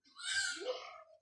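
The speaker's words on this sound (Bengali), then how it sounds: "এই যে গাইস দেখেন আমার বাবার কবুতর" Domestic pigeons kept by a family give a brief, close cooing call lasting about a second, alone without talk.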